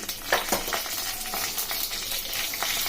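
Curry leaves, dry chillies and long-cut green chillies fry in hot oil for lemon rice, giving a steady close sizzle with small pops and stirring scrapes. No speech is heard.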